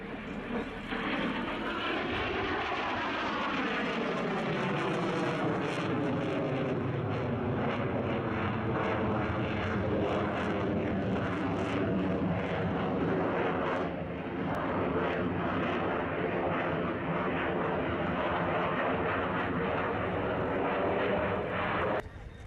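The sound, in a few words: Belgian F-16 jet demo display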